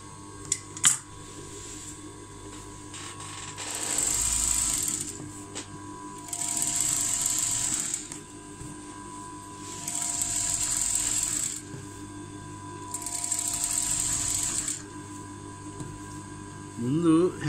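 Sewing machine stitching piping onto a blouse in four separate bursts of rapid whirring, each a couple of seconds long, with quiet pauses between them.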